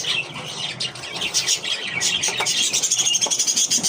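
Pet budgerigars at home keep up a busy, close stream of chirps and chattering twitters with no pauses.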